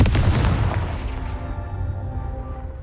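Confringo fire spell in the video game Hogwarts Legacy bursts into a loud, booming explosion at close range, then rumbles and fades over a couple of seconds.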